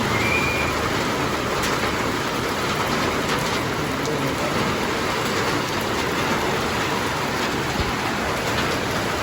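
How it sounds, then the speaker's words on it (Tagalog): Steady, heavy rain from a typhoon's trailing bands pours throughout, a dense continuous hiss of drops with no voices. "Ulan."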